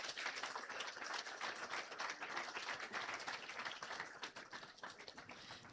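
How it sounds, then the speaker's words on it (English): Audience at a county fair queen contest claps steadily for the contestants, a continuous wash of applause heard at a distance and fairly faint. "let's give these girls another round of applause for a great job"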